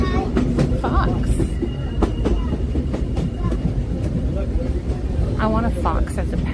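The Disneyland Railroad train runs near Toontown Depot, its continuous rumble and clickety-clack of wheels on track carrying on beneath people talking.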